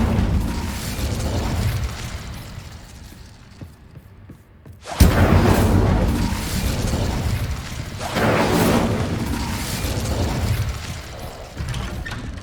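In Hogwarts Legacy, a spell-casting fire burst erupts with a sudden sharp whoosh and boom, then a sustained roaring crackle of flames with swelling surges, after a quieter rumbling stretch.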